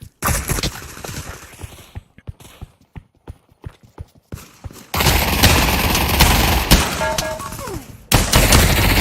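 Gunfire in the VR video game Pavlov: a run of sharp, evenly spaced single shots, then sustained loud bursts of rapid fire and a final heavy blast, close and loud.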